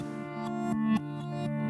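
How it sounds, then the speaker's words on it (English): Swelling reversed acoustic guitar notes rise into abrupt cutoffs over a sustained synth pad, a soft repeating pulse of blooming tones. "Then you have that reverse acoustic guitar and the pad sound."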